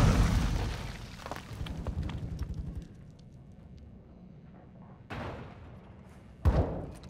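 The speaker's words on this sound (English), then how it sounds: "Throwing grenade!" A grenade blast in the video game Modern Warfare II, with a loud opening burst that rumbles down over several seconds, followed by two more sharp booming impacts later on.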